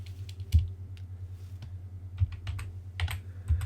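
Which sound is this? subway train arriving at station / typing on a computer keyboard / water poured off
typing on a computer keyboard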